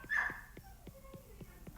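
Dogs barking indoors at a home during a live stream, a string of short sharp barks and yips repeating roughly every third of a second, moderately close and fairly loud.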